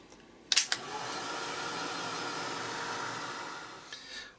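A dryer blows a steady, loud whooshing hum over red paint on a stamp. It switches on with a couple of clicks and winds down near the end, and no one speaks.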